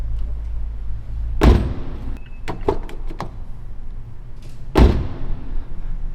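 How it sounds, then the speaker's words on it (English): Mazda ND Miata door with stock bushings closing with a loud thud, then a few sharp latch clicks and rattles, followed by a second heavy slam, all close up. "this is just the door bushings before. It's what it sounds like when you close and open it."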